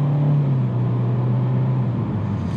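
A 2020 Hyundai Venue with a CVT drones steadily while driving. A low engine tone holds and then dips slightly as its simulated gear shifts come through, heard from inside the cabin with no talking.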